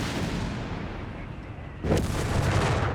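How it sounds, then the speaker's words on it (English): Artillery bombardment in Company of Heroes 3, with a sudden heavy blast breaking through a dense rumbling battlefield din, loud and close. "Bombardment again here, plus the M16 here"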